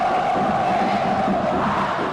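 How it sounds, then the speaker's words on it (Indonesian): Indonesian supporters roar continuously in a football stadium during a friendly against Malaysia, a dense, steady crowd cheer filling the space with shouts rising out of the din. "Sorak-sorai para pendukung Indonesia yang telah lama menantikan datangnya atau hadirnya kembali sang Garuda di lapangan hijau"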